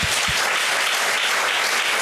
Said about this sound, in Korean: 우리 격려의 박수를 한번 부탁합니다